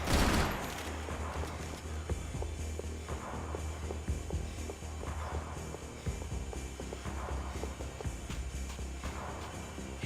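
Video game gunfire during a firefight, dense bursts of shots crackling over a low constant hum, moderately loud and steady across the whole stretch with no talk.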